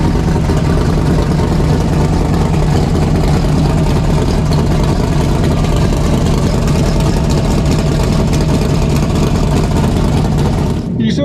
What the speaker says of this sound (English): This big tire El Camino,